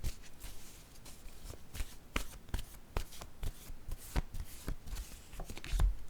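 Oracle cards are shuffled by hand in a quiet room, a steady run of soft, crisp riffling flicks and taps repeating at close range with no voice over them.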